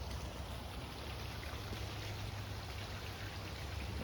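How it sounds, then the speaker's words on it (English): Small patio fountain dripping and trickling water on an outdoor deck, a steady soft wash of water noise throughout with no clear individual drops, fairly quiet and continuous. "Little fountain drip."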